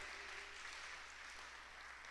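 A church congregation claps for the Lord during a sermon, a brief, steady wash of many hands clapping at a distance, fairly quiet, with no voices over it.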